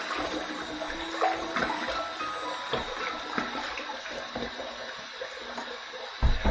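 Water splashes onto a face before a shave, with running water and a few wet slaps close by, ending in a louder splash.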